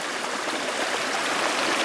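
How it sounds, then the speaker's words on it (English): A waterfall deep in the bush roars steadily, a dense, continuous rush of falling water that stays loud and even throughout, with no voices over it. "I found this incredible waterfall out of nowhere in the bush."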